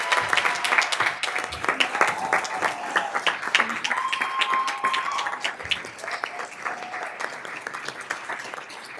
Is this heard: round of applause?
yes